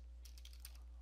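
Keystrokes on a computer keyboard while entering commands to fix a Windows blue screen error: a short burst of several quick, light clicks close by, with no voices.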